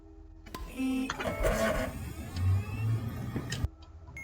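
Mechanical whirring and clunking from the AND module in Keep Talking and Nobody Explodes, a busy burst of motor-like grinding and clicks lasting about three seconds, then cutting off abruptly.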